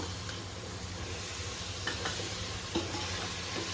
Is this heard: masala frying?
yes